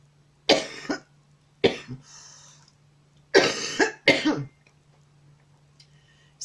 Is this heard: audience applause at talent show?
no